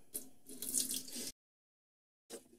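Tap water splashes and pours into a Keurig K40 coffee maker reservoir in two bursts, fairly close and bright, separated by a stretch of silence.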